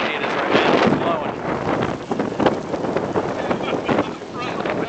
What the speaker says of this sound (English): see how windy it is right now.